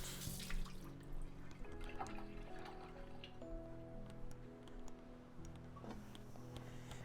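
Tap water runs steadily into a kitchen sink as a wiped-out pot or bowl is rinsed while cooking garlic and herb clams, with a continuous close splash and trickle over faint clinks and no speech.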